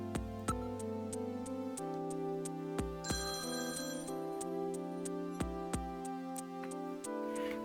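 A phone ringtone plays a bright, chiming electronic melody of repeating tones with sharp ticking accents, steady and moderately loud, with no talking over it.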